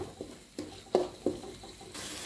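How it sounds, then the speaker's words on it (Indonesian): Spice paste sautéing in cooking oil in a pan for chicken kalio, a soft sizzle broken by a few sharp stirring clacks, close and fairly quiet. "tambahkan secukupnya minyak goreng tumis sampai bumbunya mengeluarkan aroma harum"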